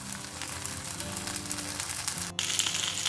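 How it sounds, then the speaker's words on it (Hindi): Paneer cubes, capsicum and onion fry in a pan, a steady close sizzle with light crackle throughout, briefly dipping before resuming louder. "उरलेले पनीर, कॅप्सिकम आनी अनियन फ्राय करून घेता"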